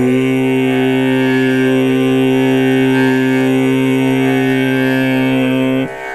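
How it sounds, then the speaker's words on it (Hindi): A harmonium's first white key, C, sounds as one low, steady reed tone held loud and unbroken for about six seconds before it cuts off abruptly near the end, with no talking. "आप पहले सफेद बटन की आवाज सुन पा रहे हैं, इसको हम सी पिच भी कहते हैं।"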